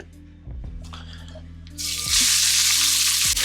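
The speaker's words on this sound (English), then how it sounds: "I probably shouldn't have added vegetable oil because it's all bouncing everywhere" Vegetable oil spatters and sizzles in a hot pan, growing from scattered pops into a loud, steady hiss with a few sharp clanks of cookware.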